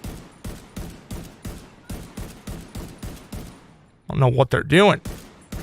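Evenly paced single shots at enemies in the video game The Division 2, about a dozen sharp reports in a steady rhythm, followed by someone speaking briefly.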